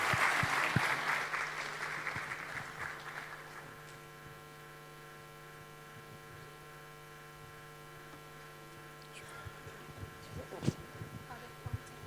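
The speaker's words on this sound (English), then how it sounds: "Let's give a round of applause to our panelists and the moderator." A conference audience applauds the panelists and moderator, a dense burst of clapping that fades after a few seconds into a steady mains hum, with scattered claps and noises returning near the end.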